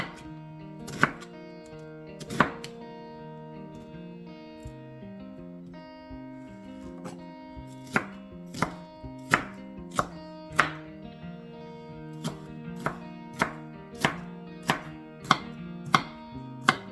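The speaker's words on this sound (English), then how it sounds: "Going to chop up a red onion, we're just going to slice this as well." A knife slices and chops a red onion on a cutting board for a cucumber radish salad, giving a steady run of sharp, close knocks that quicken toward the end, heard alone with no talk.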